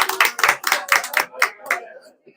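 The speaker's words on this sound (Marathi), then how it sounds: "एकदा ताईसाठी टाळ्या वाजवा गड्या." A group at a temple saptah gathering in Jintur applauds a woman cook with about eight evenly spaced, close hand claps that fade toward the end.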